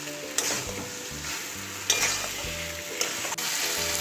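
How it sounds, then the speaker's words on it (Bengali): Potatoes and pointed gourd sautéing with prawns in a pan, a steady sizzle broken by a few scraping stirs of a spatula, close and alone without talk. "আলু পটল দিয়ে আবারও ভালো করে কষিয়ে নেব।"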